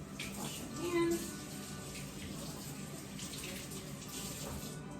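A kitchen tap runs steadily as hands are washed during lasagna making, a soft continuous splash of water with a small swell near the start.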